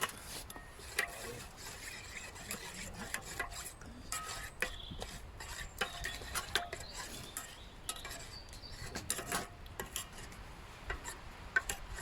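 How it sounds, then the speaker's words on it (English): Garlic puree is stirred into melted butter in a dish outdoors under a tarp, giving faint, scattered scraping and clinking of a utensil against the dish, irregular soft taps over a quiet background. "I'm going to add some garlic puree to that, stir that in to create a garlic butter."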